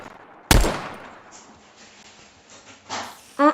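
Gunfire from a war mod in the video game Minecraft: one sharp, loud shot that rings out and decays, followed by fainter bursts and a final short crack, with no talking.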